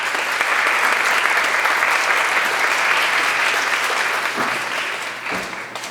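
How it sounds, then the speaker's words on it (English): An audience giving a round of applause for a hospital CEO at a healthcare event, a full, steady wash of clapping from a large crowd that gradually thins toward the end. "Let's please give a round of applause for Mr."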